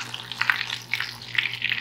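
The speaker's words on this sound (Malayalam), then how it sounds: "ഒരു 4 മുതൽ 5 മിനിറ്റ് വരെ നമുക്കിത് ഫ്രൈ ചെയ്തെടുത്താൽ മതി." Shrimp coated in rice flakes fry in hot oil, giving a steady crackling sizzle with bursts of popping and a low continuous hum underneath.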